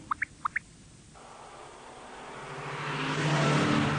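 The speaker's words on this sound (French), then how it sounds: "Arrêtez cette voiture!" A car engine starts up and builds, revving louder over a few seconds after a couple of short sharp tones at the start.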